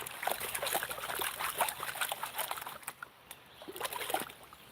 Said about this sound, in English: Let's go ahead and pan out. This is my 15-inch Mine Lab pan